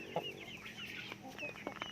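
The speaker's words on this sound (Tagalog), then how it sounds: "So ito yung ating mga manok dito sa ating backyard guys." Shamo chickens cluck softly in a backyard, a few short bird calls and rustles close by against faint outdoor noise.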